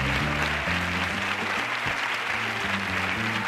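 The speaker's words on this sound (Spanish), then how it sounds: "¡Un aplauso," A TV studio audience applauds, a dense burst of clapping that runs throughout with music underneath.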